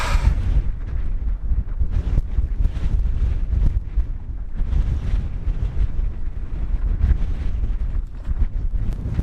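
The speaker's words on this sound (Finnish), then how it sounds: "On se vaan melkoinen mäki ja melkoinen tuuli." Steady, loud wind on a hill during an autumn hike in Finnish Lapland roars and buffets the microphone throughout, with gusty low rumbling and no voices.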